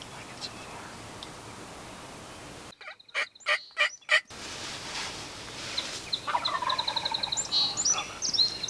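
A wild turkey gobbles from its roost at a distance, several rattling calls breaking through quiet outdoor ambience while hunters whisper softly nearby.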